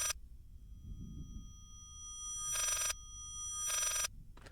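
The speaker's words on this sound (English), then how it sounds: "this kind of gives me a phone ringing" A phone in the horror game Layers of Fear rings in a few sharp, bright bursts with quiet gaps between them, standing out clearly over a low ambient rumble.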